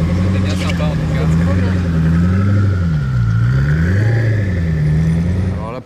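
A Koenigsegg supercar pulls away with a loud, deep engine drone that rises and dips in pitch as it revs through the gears, close by and dominating, with a voice faintly underneath.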